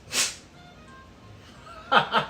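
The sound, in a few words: person sneezing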